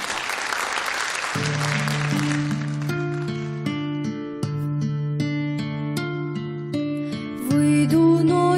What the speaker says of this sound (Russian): Приветствуем бурными аплодисментами.